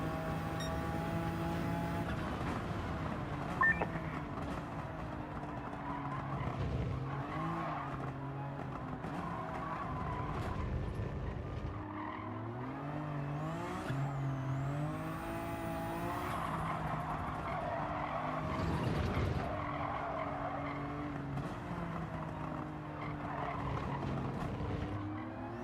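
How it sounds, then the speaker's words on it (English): Toyota Supra race cars in a Gran Turismo 7 Manufacturers Cup race, with steady engine drone and tire squeal over a continuous, fairly loud mix of several cars. "What car is this? It's a Toyota Supra."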